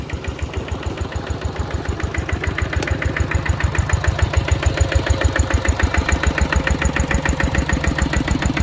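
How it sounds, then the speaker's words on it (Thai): A Kubota engine pumps water out of a rice field, a steady fast-thudding idle with a regular mechanical beat, loud and close, running alone without any talking. "เราดูดน้ำออกนะครับ พี่น้องดูได้นะครับ โดยเครื่องคูโบต้านะครับพี่น้อง"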